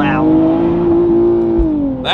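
A 2023 Nissan Z Proto Spec engine holds a high, steady drone at the rev limiter, then drops away as the revs fall and a brief rising tone follows.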